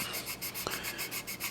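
Sandpaper rubs back and forth on primer coating a scale model in steady, soft rhythmic strokes, a faint close-up scratchy hiss with no voices.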